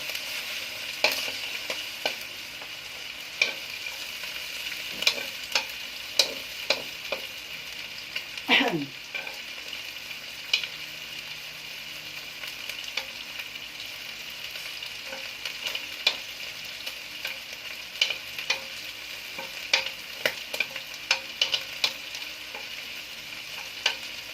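Garlic sizzles steadily in hot rendered fat in a pan while adobo is cooked, with occasional scrapes and taps of a utensil stirring it, close and continuous.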